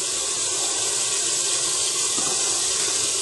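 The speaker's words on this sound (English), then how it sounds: "add some cold water" Cold tap water runs steadily into a bowl holding a teaspoon of cornstarch in a home kitchen, a continuous close hiss and splash lasting a few seconds with no talking.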